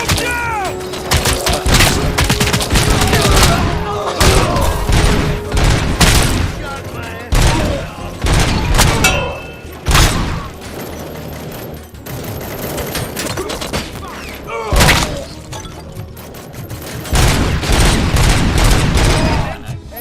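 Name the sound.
gunfire in RoboCop Rogue City video game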